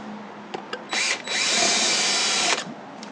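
A power drill drives a small black screw into a fiberglass door: two brief blips, then a sustained loud whine of about a second and a half before it cuts off, with a short burst between.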